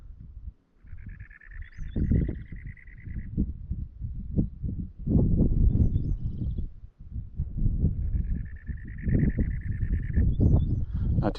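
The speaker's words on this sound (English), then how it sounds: "It seems to be matching this other bird's calling." Repeated high, warbling bird calls ring out in bursts over a busy, rumbling outdoor background on a Red Rock Canyon trail, each call lasting a second or two.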